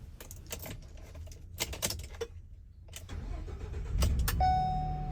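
A 2018 Ford Transit 350HD box truck with a 12-foot box and ramp starting up: soft clicks and key handling, then the starter cranks and the engine catches into a steady quiet idle, heard close from the cab.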